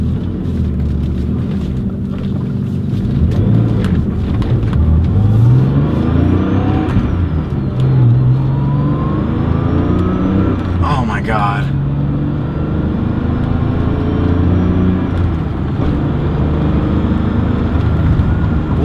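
A 1995 Porsche 911 993 Carrera 4 flat-six engine while driving, rising and falling through revs and rev-matched downshifts, loud and continuous inside the cabin with someone talking excitedly over it.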